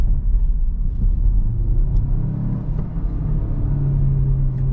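Synthetic engine note piped through the cabin speakers of a 2021 Renault Megane TCe 140 facelift in sport mode, a steady low droning hum with slight rises in pitch over road rumble during a night drive.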